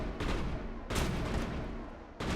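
Enemy gunfire in the Mass Effect video game, heard as a few heavy broadband bursts of shots separated by brief lulls, fairly loud and close, with no voices.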